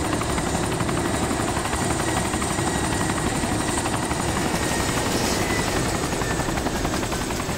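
A helicopter in the video game DayZ drones loudly and steadily with a fast, even rotor chop that fills the whole stretch, close and continuous with no pause.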